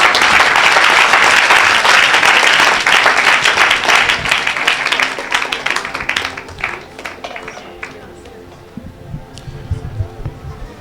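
A church congregation applauds and cheers in praise of the Lord at an evangelical worship service, loud sustained clapping filling the room before gradually thinning and fading toward the end.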